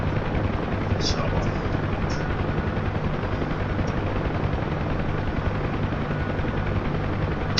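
A United Nations Huey helicopter flying at low speed and shaking gives a loud, steady rotor-and-engine roar that fills the whole stretch, with a voice speaking briefly over it.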